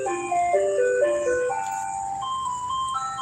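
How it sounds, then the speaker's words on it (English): An ice cream truck idling outside while playing its tinkling chime melody, a steady stream of bright musical notes over a low engine hum, heard from indoors. "I just walked back into the room and that truck is still going."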